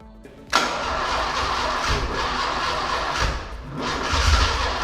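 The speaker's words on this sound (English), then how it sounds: "right now the most important task is to get this engine started" A Maserati Spyder engine cranks and catches abruptly after a short quiet moment, then settles into a loud, rough running roar that swells slightly toward the end.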